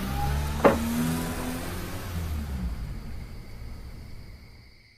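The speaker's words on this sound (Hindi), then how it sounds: "आज तो भाई गाड़ी चलाएगा।" A car starts to move off, with a sharp click or thump near the start and then a broad engine and road rumble that gradually fades away into quiet, with no one talking.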